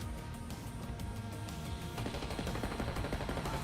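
Rapid gunfire in a Call of Duty game, dense sustained bursts of automatic shots that grow heavier partway through, loud and close with no talking over it.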